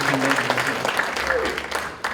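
Audience applause at a university Athletic Hall of Fame induction ceremony honoring four new inductees, a steady dense ovation filling the hall at a loud, even level throughout, with faint voices beneath it.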